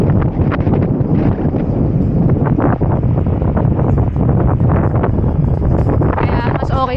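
Strong, steady wind buffets the microphone while riding on an outing toward the Real, Quezon boundary in hot weather, a continuous broadband roar with rushing gusts and faint voices underneath throughout.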